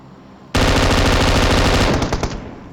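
Video game M249 machine gun firing one sustained, rapid, loud burst that starts abruptly, runs for about a second and a half, then breaks into a few trailing shots and fades.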